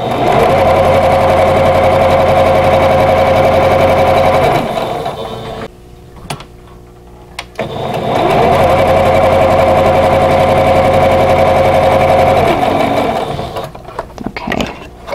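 A sewing machine stitches pieces of a vintage quilt block in two steady, loud runs of several seconds each, separated by a short quiet pause with faint handling sounds.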